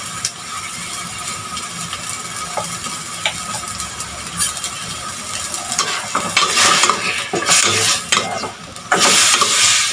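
Meat fries in a pan with soy sauce, a continuous sizzle with stirring scrapes, growing louder and more vigorous toward the end, with utensil clinks.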